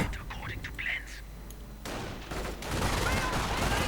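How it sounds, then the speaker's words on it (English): Battle sounds from a Company of Heroes match, with distant gunfire and explosions building into dense, continuous machine-gun and rifle fire. A commentator speaks over the fighting. "Rangers coming under heavy fire from the Grenadiers, finding away the MG on the bipod"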